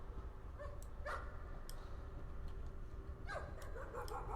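In the horror video game Layers of Fear, a dog lets out a few faint, distant barks and yips in separated bursts over a low ambient drone.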